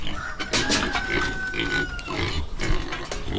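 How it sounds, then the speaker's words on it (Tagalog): Growing farm pigs grunt and snort in a pen, a busy cluster of close, overlapping oinks and rough grunts with some background clatter and a brief whine, no clear talk. "Ayun, malaki na rin yung ating mga baboy"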